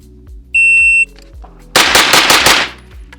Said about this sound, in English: I want you to come up and I want you to shoot 6 rounds in the center of the target.